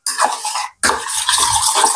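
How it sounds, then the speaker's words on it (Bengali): Hand-mixing ingredients for Bengali potol paturi (stuffed pointed gourd), a wet squelchy stirring and rubbing that runs steadily, breaks off briefly, then resumes close and loud with no talk. "সবগুলো মাখিয়ে নেব।"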